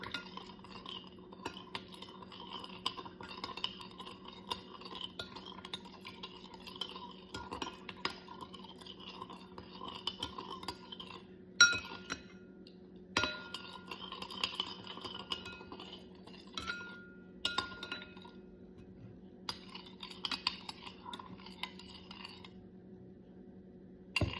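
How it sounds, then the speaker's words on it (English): A spoon stirs salt into vinegar in a glass, giving faint, steady clinking and scraping against the glass with brief pauses, quiet and close. "let's make sure that the salt is completely dissolved in the vinegar by stirring it"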